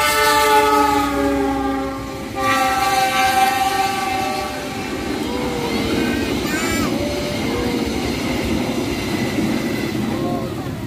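The KA Lodaya train passes straight through Cimekar station in Bandung during rain, sounding a long, loud horn with sustained tones, then the rumble and rhythmic clatter of the wagons rolling close by.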